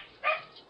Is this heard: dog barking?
yes